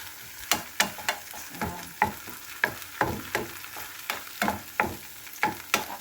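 Tortang talong, an eggplant omelette with ground beef, frying in a pan, with steady sizzle broken by a rhythmic series of sharp scraping and tapping strokes from stirring or turning, close and clear, with no talk.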